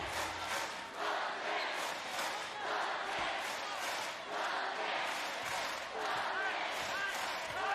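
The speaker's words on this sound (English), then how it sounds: "Home crowd getting into this one." Home crowd at a Chiba Jets versus Yokohama B-Corsairs B.League basketball game, a rhythmic chanting and cheering that pulses in regular beats with squeaks and bounces, under an announcer's commentary.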